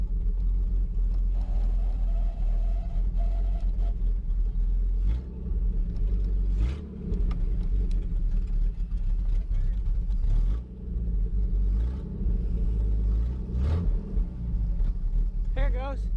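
A 1949 Chrysler Windsor engine idling and pulling forward in gear, a steady low rumble running throughout with faint clunks, and people talking over it.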